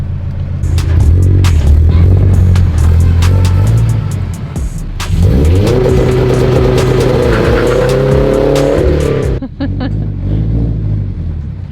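Turbocharged Toyota FRS running on E85 fuel revs hard and close, rising and falling in a loud throbbing roar, with a brief lull before another sustained rev that climbs then drops back to idle.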